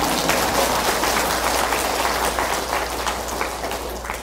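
A crowd of Buddhist listeners at a Vancouver teaching session applauds steadily, a dense, even wash of clapping that holds the whole time with no voices on top.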